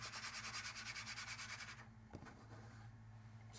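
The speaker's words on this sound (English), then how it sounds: "slide it back and forth on the table to level the product" A snuff can slides back and forth across a table, producing soft rhythmic rubbing and scraping strokes that are close and quiet, followed by a brief knock and quieter sliding.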